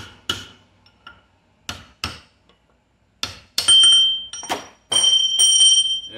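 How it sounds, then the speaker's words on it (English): A hammer taps a bearing race out of the rear gearbox of a Toro Groundsmaster 4500-D mower: sharp, close metallic strikes in an irregular series, with later blows ringing with bright, sustained tones. "And we're just going to hit the top with a hammer."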